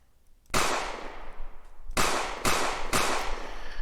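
Four pistol shots in a video game, sharp and close, the first alone and then three in quicker succession about half a second apart, each followed by a short ringing tail as spent shell casings clatter down.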